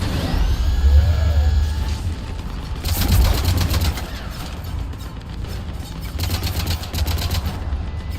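Cannons in a video game fire in rapid rattling bursts over mechanical whirring, clanks and rumbling, with quieter stretches between the volleys.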